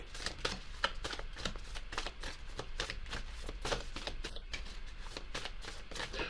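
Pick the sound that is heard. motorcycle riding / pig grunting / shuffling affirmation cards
shuffling affirmation cards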